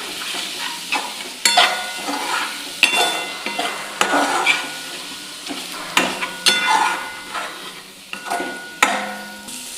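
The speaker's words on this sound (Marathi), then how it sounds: "आता आपण छान मिक्स करून घेऊया" A spoon stirs whole masoor lentil bhaji in a pan with cumin powder and garam masala, scraping in repeated strokes over a steady sizzle of frying spices, close and fairly loud with no talking.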